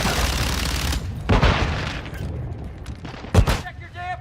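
Gunfire and explosive bursts in Call of Duty: Modern Warfare II, loud thuds and cracks spaced across the moment amid combat noise, with a voice briefly speaking near the end.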